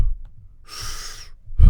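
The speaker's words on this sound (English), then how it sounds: "it's pulse breathing." A man demonstrates pulse breathing, holding most of the air in: a single breathy exhale lasting under a second, close and moderately loud, followed by a short low thump and a rustle.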